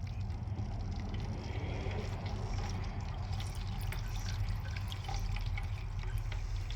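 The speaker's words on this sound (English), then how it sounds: "You see how the wax is dripping off of the trap?" Hot wax dripping off a steel trap into a heated wax pot, a quiet steady trickle with faint drips over a low bubbling hum.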